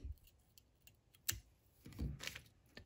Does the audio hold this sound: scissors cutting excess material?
yes